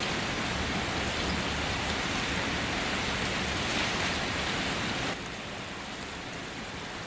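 Steady rain pours over a village on a wet day, a dense, even hiss of drops on surfaces that drops slightly in level near the end, with no voices.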